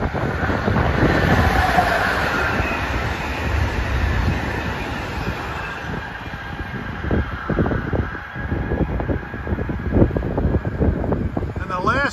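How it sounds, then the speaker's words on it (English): The Amtrak 55 Vermonter passenger train passes in Bucks County, Pennsylvania: a loud steady rumble with wind buffeting the microphone gives way to a rhythmic clatter of wheels over rail joints as the cars roll by. "the last of the Amtrak trifecta heading to Philly is Amtrak 55, the Vermonter from St. Albans, Vermont to Washington."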